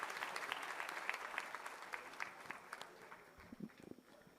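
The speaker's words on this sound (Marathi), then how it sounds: "जोरदार टाळ्या रवींद्र प्रभुदेसाई सर यांच्यासाठी." An audience at a business entrepreneurs' gathering applauds a guest speaker, a dense burst of clapping from many hands that starts strong and gradually thins out over several seconds.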